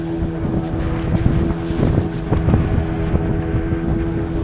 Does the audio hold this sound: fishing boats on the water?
yes